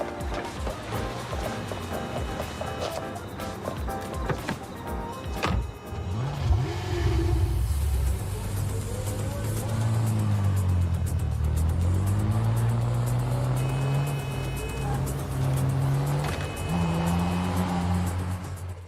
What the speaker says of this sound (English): I love how we took a basic car and we modded it to be a racing car.